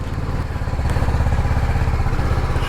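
A BMW GS 310 motorcycle with about 20,000 km on it runs at a service centre, its engine a steady, loud, rapid thumping rumble held close throughout with no pauses.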